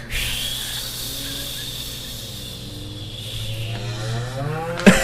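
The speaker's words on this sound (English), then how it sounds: "That cow is still mooing." A cow moos in one long, steady, loud call that runs through nearly the whole stretch and ends in a brief bump. No one speaks.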